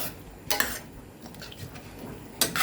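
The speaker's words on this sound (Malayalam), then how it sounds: "നമുക്കൊന്ന് ഇളക്കി കൊടുക്കാം" A utensil stirs chicken curry with coconut milk in a pot, making a few sharp metallic scrapes and clinks against the pot with quieter shuffling between them.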